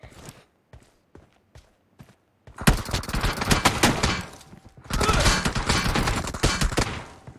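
Bursts of automatic gunfire in the PUBG video game, first a few sparse shots and footstep-like taps, then two long, loud sustained volleys of rapid fire, with a voice occasionally heard.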